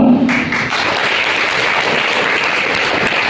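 Audience at a school result announcement claps loudly and steadily, a dense, sustained wash of applause filling the hall from start to finish with no voices standing out.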